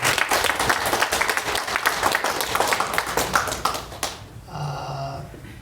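A church congregation claps together at a New Year's Eve worship service, a loud sustained round of applause that stops abruptly, followed by a short tonal sound.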